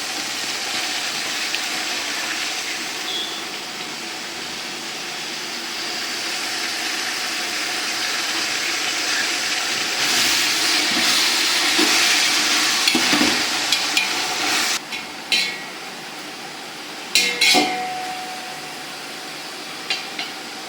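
Vegetables, including beans, carrots and potatoes with ginger-garlic paste, green chillies and mint, are sautéed and stirred in a large pot for vegetable biryani, a loud continuous sizzle with scraping stirs and clanks building toward the end.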